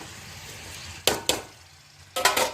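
Eggplant pieces tipped into hot oil give two short bursts of loud sizzling, each a sharp onset that quickly settles, over a quiet hiss from the pan.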